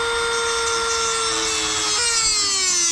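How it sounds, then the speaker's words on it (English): A Dremel rotary tool cuts the tip off a steel tap, a close, loud, high whine with a steady pitch that drops slightly as the cutting load rises partway through. "I'm gonna take a Dremel and cut the tip of this off"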